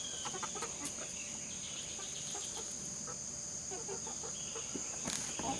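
Australorp chickens in a backyard run give scattered soft clucks over a steady hum of insects and outdoor ambience, calls near and moderately loud, irregular in rhythm.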